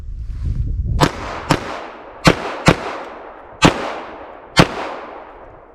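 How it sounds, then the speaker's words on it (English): Six sharp, loud shots from a full-size 9mm M&P pistol fired outdoors in quick pairs during a body-then-head drill, each crack ringing out with a short echo tail. "I'll do 2 shots to the body, move over 2 shots to the body, and then do our headshots"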